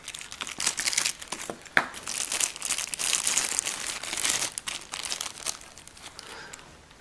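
A plastic bag crinkles and rustles up close as a copper KingTu Skyline M-6 vape mod is pulled out of its box, the crackling bursts coming in an uneven run with a sharp pop partway through.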